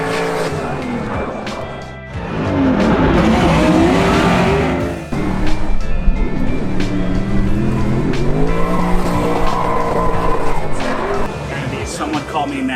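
A Nissan 350Z race car drifts with a sustained tire squeal and a high revving engine that rises and falls, loud and close, with people talking over it.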